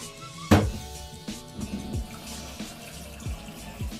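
Tap water runs and splashes to pre-wash photographic film in a developing tank, starting with a sharp bang and then gurgling in irregular bursts and drips close by, with no voices.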